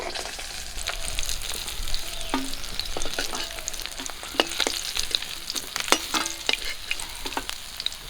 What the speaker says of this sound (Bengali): একই তেলে বাকি মাছগুলো ভেজে নেবো